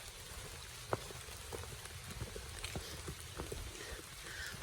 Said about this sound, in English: Just a beautiful little trail in the woods with a little bit of rain.